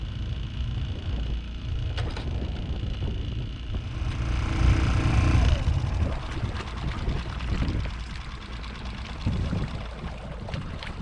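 Sailboat's auxiliary motor drones steadily under way along the Maine coast, a low, continuous hum blended with rushing water and hull noise, swelling a little midway and staying moderately close throughout without talk.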